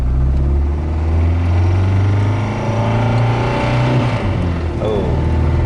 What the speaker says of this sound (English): now we're going to give it some gas